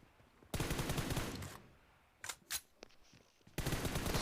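Video game gunfire: two long automatic bursts of rapid shots open and close the passage, with a few isolated single shots in the quieter gap between them.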